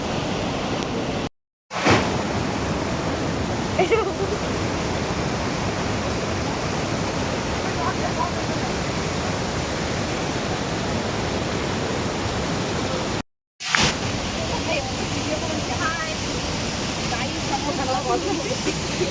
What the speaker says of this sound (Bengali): দুটো নদী এসে মিলছে, একটা মন্দাকিনী আর একটা মা গঙ্গা, এখানে এসে মিলছে।